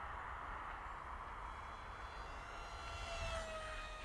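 A Mini Surfer 800 RC model airplane cruises at half throttle on its maiden flight, its electric motor giving a steady, distant whine that holds level with a slight pitch rise near the end.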